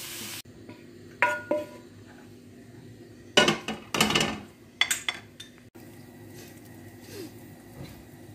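Tomatoes sautéed and stirred in a pan for kefta lasagna, heard as scattered utensil clinks and scrapes over a low, steady sizzle with a few louder stirring bursts.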